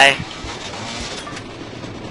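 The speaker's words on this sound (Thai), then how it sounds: "อันนี้รถไฟมา" A train rolls past in the motorbike video game Urban Trial Freestyle: a steady, dense rumble with a brief louder burst at the start, holding level through the short stretch.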